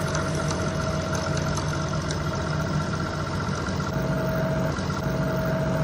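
End mill cutting very strong metal on a lathe at a slow feed, a continuous grinding machine drone with steady motor hum and faint scraping throughout.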